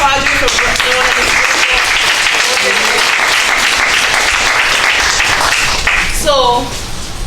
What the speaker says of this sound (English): Let's give another round of applause for Brother Quadre for doing this.